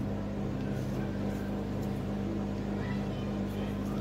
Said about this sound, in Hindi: अब हम इसी सेम पे हम टमाटर पीस लेंगे।